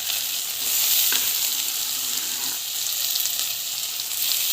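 Tomatoes sautéing in a hot pan for a Tamil-style kuzhambu, a loud steady hissing sizzle that swells and eases slightly with occasional faint stirring scrapes, no voices.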